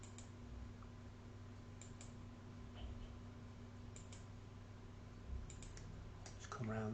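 Faint, sharp mouse clicks come in small clusters against a steady low computer hum as several points are clicked in Lightburn laser software. The clicks are sparse and irregular, with no talking.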